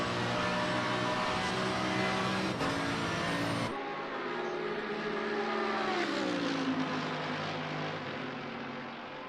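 Racing engines of a Mercedes and a Lamborghini at Monza in a racing video game, a loud sustained drone that shifts pitch as the cars accelerate and change gear, with no talk.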